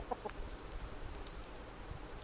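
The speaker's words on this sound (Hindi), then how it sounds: "मुर्गी मिल गई है और मुर्गियाँ भी हमारे पास बहुत मिल गई हैं" Chicken clucks from the Minecraft video game, a few short soft calls near the start over a steady low game background noise, with no talk.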